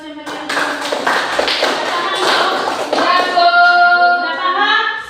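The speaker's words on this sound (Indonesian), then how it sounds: "Berikan aplaus yang meriah." Applause from a classroom group of mothers, a burst of loud, close clapping that starts abruptly and keeps up steadily, with some voices mixed in.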